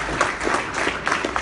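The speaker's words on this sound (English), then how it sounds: "Give him a round of applause." Audience applause at a grassroots Republican political rally, a short, dense burst of clapping from a crowd, fairly loud and close.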